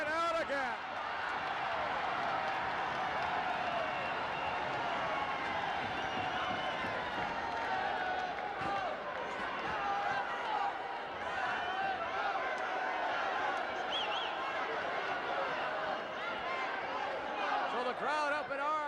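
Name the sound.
wrestling crowd cheering and reacting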